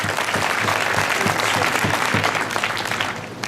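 An audience at a political event breaks into sustained, loud applause, dense and even throughout with no pause, hands clapping together from a sizable crowd close by.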